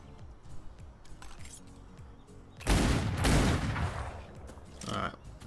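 Gunfire in the pirate game Atlas, a sudden loud burst of shots erupting after quieter moments, followed by another sharp report near the end, with someone talking in between.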